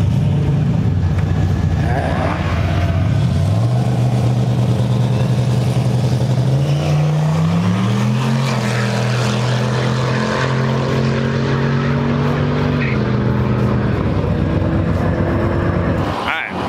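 Drag racing truck doing a burnout at a no-prep event, its engine droning loud and steady with rising and shifting pitch, held for about fourteen seconds and then cutting off abruptly, with people talking underneath.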